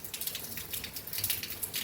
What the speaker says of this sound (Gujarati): વરસાદમાં નહીં પલળવું